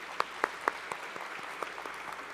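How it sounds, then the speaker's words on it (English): An audience at the World Knowledge Forum 2022 claps for the moderator and speakers, a thin scattering of distinct handclaps from a hall, a few sharp near claps thinning out over a couple of seconds. "Ladies and gentlemen, please give our moderator and speakers another round of applause"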